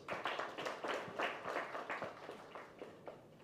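Audience applause at a Vision 2030 country strategy launch ceremony, a moderate patter of hand claps with uneven rhythm, fading slightly toward the end.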